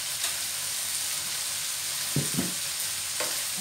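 Onion and garlic sizzle steadily in a pan for butter garlic shrimp with oyster sauce. A bright frying hiss runs throughout, and a few soft scraping knocks come from stirring.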